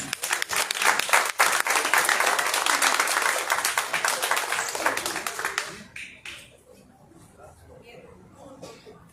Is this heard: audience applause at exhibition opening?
yes